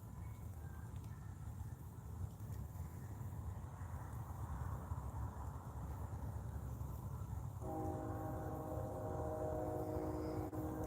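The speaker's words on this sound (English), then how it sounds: "Here comes another train the opposite direction." A train rumbles past with steady low-frequency rolling noise, and a tonal horn-like whine joins in the last few seconds.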